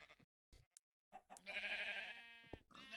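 A sheep in a Minecraft survival game bleats, a few short sounds followed by one longer, louder, wavering bleat, clear and close.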